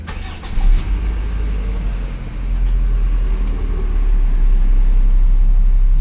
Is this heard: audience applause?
no